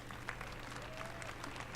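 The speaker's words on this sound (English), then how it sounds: "Let's give them all a round of applause." Crowd applause at EA's E3 2018 press conference, a dense, steady wash of clapping heard from a distance with a low hum beneath it, faint and unbroken for the whole stretch.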